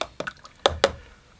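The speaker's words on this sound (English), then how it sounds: "We're going to practice our splashing on this video. Splashing technique like that." Watercolour paint tapped and splashed onto bright white paper while painting a Cotswold street scene: four soft, wet taps in quick succession, close and fairly quiet, with no talking.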